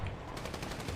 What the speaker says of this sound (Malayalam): വേറൊരു വെടി വെച്ചേ അവിടെ